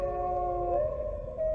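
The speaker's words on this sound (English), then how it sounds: "Wolf dogs." Wolf dogs in Metal Gear Solid: The Twin Snakes let out a long, sustained, wavering howl that dips and rises again over a low rumbling backdrop.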